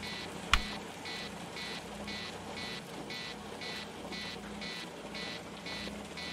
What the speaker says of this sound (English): Bad caution alarm. Low pump, dirty filter.